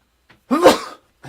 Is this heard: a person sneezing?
yes